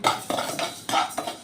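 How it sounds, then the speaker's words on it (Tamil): Urad dal dry-roasting in a pan is stirred in quick rhythmic strokes, the spatula scraping and clinking against the metal about five times in close succession, with no speech. "இந்த ஸ்டேஜில் எல்லாம் வறுத்துக்கலாம்."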